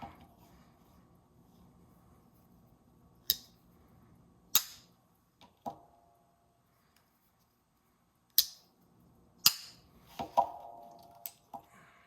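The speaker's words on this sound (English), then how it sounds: "What is someone shooting out there?" Scattered sharp gunshot-like cracks from someone shooting outdoors, about eight isolated reports spaced irregularly over a quiet indoor background, fairly faint and distant, with no talking.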